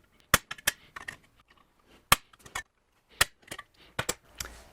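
A punch strikes metal again and again while making an undersize hole for a seat mount, giving sharp, loud, irregular cracks in small clusters with short quiet gaps between them.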